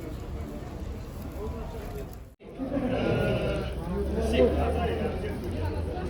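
Sheep bleating at the Koksu livestock market near Taldykorgan, calls rising over a busy outdoor crowd with people talking nearby and a low rumble of activity.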